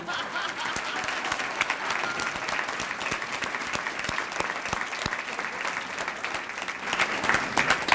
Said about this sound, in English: Bruce, would you stand and let us give you a round of applause, please?